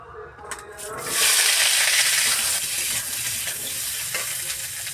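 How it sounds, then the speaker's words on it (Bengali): Potatoes sizzle loudly in hot oil in a wok, a steady bright frying hiss that swells after a brief quieter start, with occasional stirring scrapes and no talk. "প্রথমে আলুটা ভেজে নেব।"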